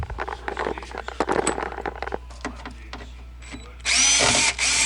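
A power drill backs out speaker screws inside a 2000 Jeep Cherokee, with light handling clicks and scrapes first, then a short loud whirring burst near the end.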